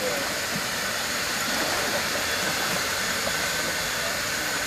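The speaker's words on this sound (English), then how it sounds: "we can hear the Mighty Vac wind up a little bit" A Mighty Vac pool drain blower winding up, a steady broadband rushing hiss that holds even and loud throughout.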